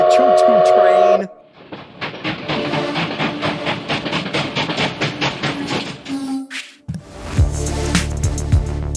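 A train sound effect opens with a loud horn-like blast, then gives way to a fast, rhythmic clatter of wheels rolling over track joints before ending in a sharp, noisy burst.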